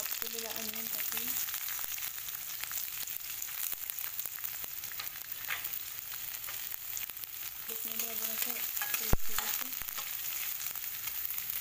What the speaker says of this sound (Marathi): इकडे कांदा छान परतत आहे